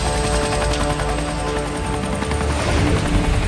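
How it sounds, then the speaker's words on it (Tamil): A helicopter takes off, its rotor chopping loudly and steadily throughout, close and unbroken, with no voices over it. "நிறுத்துறா, ஹெலிகாப்டர் நிறுத்துறா."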